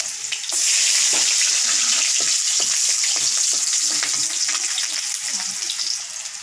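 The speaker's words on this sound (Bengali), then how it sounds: "এখন তেলের মধ্যে একটি শুকনো লঙ্কা, কালি জিরা, রসুন থেতো করে" Loud, steady sizzling of a dry red chilli, nigella seeds and crushed garlic frying in hot oil, with occasional stirring clicks throughout.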